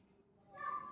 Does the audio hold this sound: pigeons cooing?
no